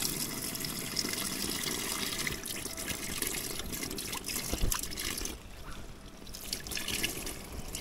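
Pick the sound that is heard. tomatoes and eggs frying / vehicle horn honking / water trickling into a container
water trickling into a container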